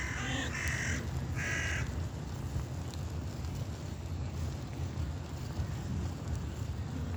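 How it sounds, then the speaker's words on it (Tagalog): Crows caw loudly in a park on a foggy Berlin morning, a few harsh calls clustered near the start, then steady outdoor ambience with wind rumble and no talking. "Maraming ibon dito."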